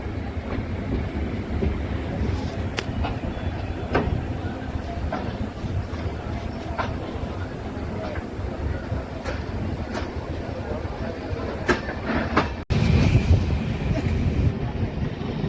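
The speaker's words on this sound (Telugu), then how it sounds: "మన ట్రైన్ ఇప్పుడు అవతలి వైపు కనిపిస్తున్న వైపు పూర్తిగా యూటర్న్ తీసుకొని జర్నీ చేయడం జరుగుతుంది" A passenger train runs on the Koraput–Araku–Visakhapatnam line through foggy hills near the Odisha–Andhra border. A steady, loud rumble of wheels on rails continues throughout, with scattered clicks and a brief dropout near the end.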